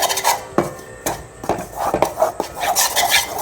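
A spoon stirs sugar into roasted flour in a bowl, giving close, irregular scrapes and clinks with short pauses between strokes.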